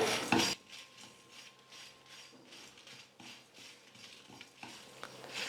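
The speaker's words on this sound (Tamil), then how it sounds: "ஸ்டவ்வை மீடியம் ஃப்ளேமில் வச்சுக்கிட்டு 1 நிமிஷம் நல்லா வறுத்துக்க போகிறேன்" Red chillies and spices dry roasting in a pan over a medium flame for mutton kulambu, a quiet clatter and scrape of stirring after a brief loud knock at the start, with faint sizzling underneath.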